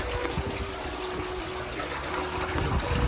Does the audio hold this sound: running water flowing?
yes